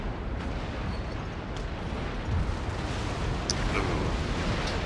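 Cannon volleys roll across a naval battle in Napoleon: Total War, heard as a dense, distant rumbling roar of massed gunfire that swells slightly toward the end, fairly quiet overall.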